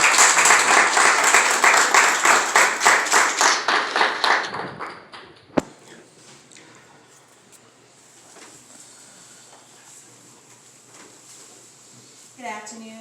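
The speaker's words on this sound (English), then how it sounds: "Let's give them a hand clap." A crowd at a clergy council holiday brunch claps in rhythmic unison, loud and regular beats for about four seconds. Then the clapping fades into a quiet room with faint murmuring and a few stray sounds.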